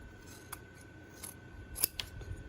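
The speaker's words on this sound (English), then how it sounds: "I'm just cutting right along the lines, right inside of them" Scissors snip through pleated fabric cut along stitched lines for embroidered masks, giving a few quiet, crisp cuts with short pauses, close and alone with no talk.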